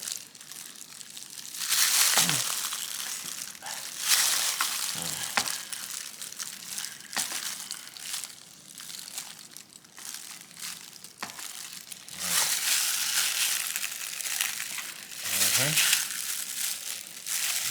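Smoked brisket cut with a fillet knife on a charcoal-grill cookout, giving repeated crinkly, crunchy slicing bursts with wet squelches, close and fairly loud, with short pauses between strokes.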